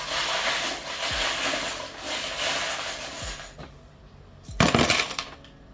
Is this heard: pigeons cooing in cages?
no